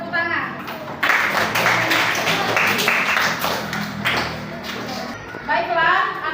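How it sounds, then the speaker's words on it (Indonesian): A class of schoolchildren claps together for several seconds in a burst of applause, with young voices chattering around it. "Kita beri tepuk tangan."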